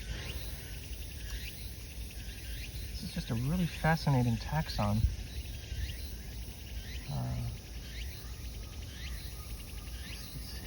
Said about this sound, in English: it rubs two edges of its wings together to produce the typical cricket chirping sound.